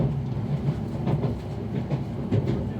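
A Greater Anglia train running into Stratford, its low rumble with rhythmic clicks and thumps from the wheels over rail joints, close and loud.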